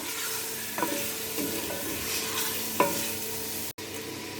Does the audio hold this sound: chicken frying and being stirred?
yes